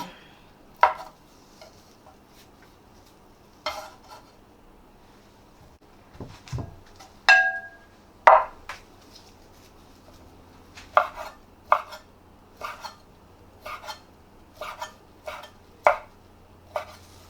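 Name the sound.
knife chopping hotdogs and sausages into small pieces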